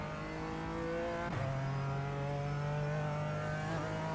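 BMW GT4 race car in iRacing on the Nordschleife, its engine note dipping on a gear change, then climbing steadily under hard acceleration, then shifting again; a continuous close, droning in-car engine sound with no voice.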